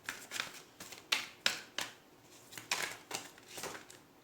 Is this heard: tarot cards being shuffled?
yes